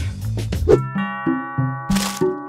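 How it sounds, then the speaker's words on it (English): A doorbell chimes in a repeated ding-dong pattern, several clear, ringing tones in quick succession, close and loud, with no speech over it. "Some birds get very nervous when they hear a doorbell."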